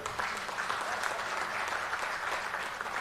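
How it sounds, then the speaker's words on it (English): A conference audience at the Responsible Nations Index report launch applauds a vice chancellor with continuous, even clapping that carries at moderate level throughout, with no talk over it. "A big round of applause for her."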